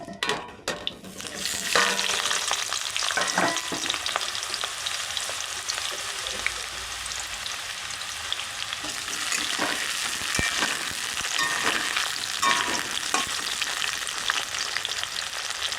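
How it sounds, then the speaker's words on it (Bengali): Potatoes fry in hot mustard oil in a kadai with a continuous close sizzle and occasional stirring clatter, loud and steady for the whole stretch, no voices. "গরম তেলে আলুটা ভেজে নেব।"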